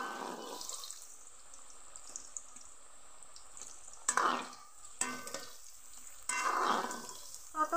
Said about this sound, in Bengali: তেল গরম হয়ে গেছে, এর থেকে অর্ধেকটা আলু আমি তেলের মধ্যে দিয়ে দিব।